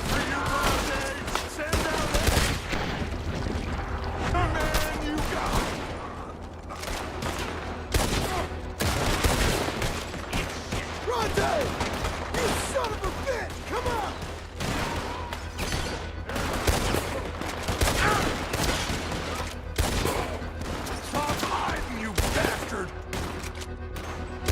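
Sustained gunfire from a Red Dead Redemption 2 shootout: dense, rapid volleys of shots crack back and forth continuously and loudly, with voices occasionally talking underneath.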